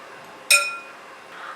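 A single bright metallic clink rings out briefly as a spoon strikes a bowl while seasonings of salt, ground black pepper and mixed herbs are stirred together, followed by a faint scrape.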